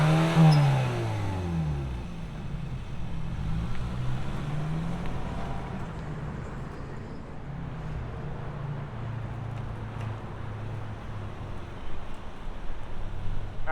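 A naturally aspirated 2025 Hyundai Tucson Limited starts up, its engine note climbing briefly before settling into steady driving noise with a low drone and some wind rush.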